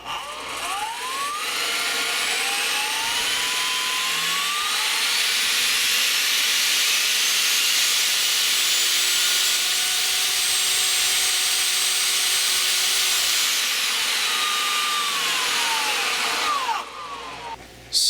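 Turbocharger compressor driven by a 6 kW outrunner electric motor at full power, 100 amps DC, spinning up to about 22,300 RPM: a loud whining rising pitch that holds a steady roaring hiss, then winds down near the end.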